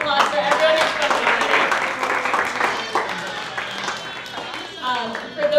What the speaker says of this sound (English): Can we get another round of applause for everyone who's spoken